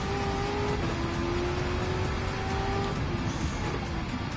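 A Porsche 918 Spider hypercar races in Gran Turismo 7, its engine holding a steady, loud drone with sustained whining tones throughout, no voices over it.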